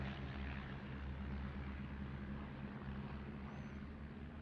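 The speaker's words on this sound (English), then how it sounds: "Ooh, look at all those aircraft." Bomber and fighter plane engines in the game Bomber Command, heard as a continuous low propeller drone at moderate, faint level with no talk.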